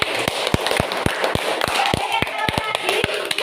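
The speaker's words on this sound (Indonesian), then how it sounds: "tepuk tangan untuk Dewi." Classroom of students clapping for a classmate, heard as scattered, uneven sharp claps from a small group over a few seconds, with faint voices mixed in.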